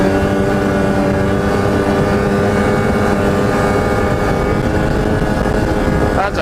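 A snowmobile engine revs hard and steadily as the rider tries to pull a wheelie in fresh snow after a storm, the loud, continuous motor drone filling the scene up close with only a slight dip at the very end.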